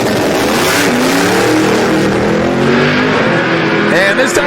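A drag racing car on boost makes a loud, sustained engine roar down the track through tire shake, pulling away toward the end while an announcer talks over it.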